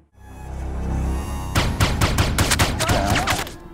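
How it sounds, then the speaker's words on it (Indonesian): In an action film, a low rumbling swell gives way to a rapid burst of gunshots, a dense volley of sharp cracks firing in quick succession, loud and close. "Untuk membuat Asep bicara, Flynn harus mengancamnya dulu dengan beberapa tembakan"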